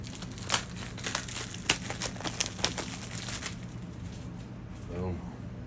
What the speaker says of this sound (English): So we're gonna cut this thing to open.